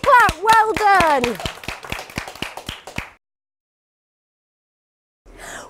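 Steady, evenly paced claps from a group of young children at a Tumble Tots toddler class ring out after an adult's sung or spoken voice opens the clip; about a dozen claps run for three seconds, then silence before faint sound returns.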